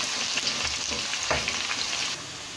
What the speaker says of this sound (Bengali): একটি প্যানে তেল দিয়ে গরম করে এতে আমি কিছু অনিয়ন ব্যারেস্তা করে নেব।